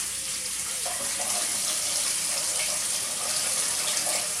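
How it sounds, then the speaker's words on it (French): Hot water runs from a tap to fill a container, a steady hissing gush that continues evenly from start to finish with no speech. "Donc, il nous faut de l'eau bien chaude. Donc, elle va remplir l'eau."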